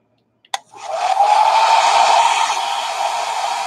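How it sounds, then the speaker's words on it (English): Hair dryer blowing on black paint over a Gelli plate, clicking on and settling into a steady, close, loud whooshing whir that runs alone for a few seconds. "Put your hair dryer on there."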